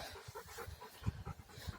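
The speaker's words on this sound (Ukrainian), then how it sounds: "Собака, як завжди, допомагає." A dog pants in short breathy bursts close by while a newly assembled Mustang 110 cc moped is put together, with soft rhythmic puffs and a few louder snorts.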